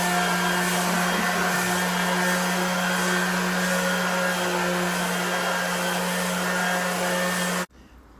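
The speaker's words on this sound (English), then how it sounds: "The orbital sander is doing all the work for you." An orbital sander with 240 grit paper smoothing plaster on an interior wall, a loud constant motor whine with a steady hum that runs unbroken and then cuts off abruptly near the end.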